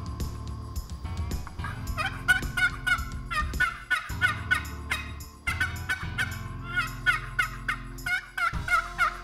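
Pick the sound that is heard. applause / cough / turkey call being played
turkey call being played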